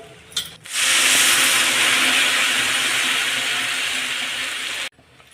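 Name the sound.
water coming to a boil in pot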